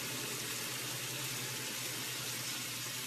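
Tap water pours steadily into a measuring cup for an orzo skillet, a constant broadband rush without pauses and no one speaking.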